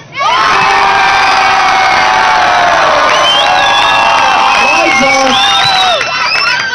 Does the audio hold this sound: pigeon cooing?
no